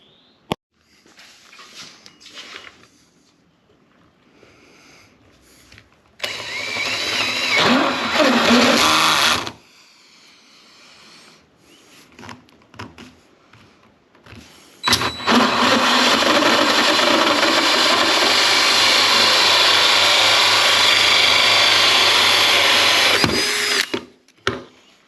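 A power tool cutting a 1.5 inch round hole in wood for a birdhouse front runs in two loud sustained bursts, a shorter one and then a longer one, with quieter handling sounds and brief talk between them.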